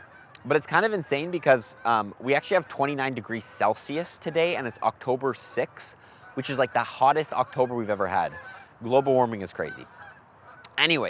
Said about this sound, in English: I don't know if you guys can hear all these geese, but they're actually going crazy right now. They're all going south.